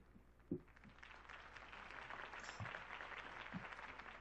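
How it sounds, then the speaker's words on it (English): Applause from a crowd follows a campaign speech, a faint, distant-sounding wash of clapping rising and holding steady, with a few low thumps scattered through it. "If only Mr. Wayne, my campaign's largest backer, could have heard that applause"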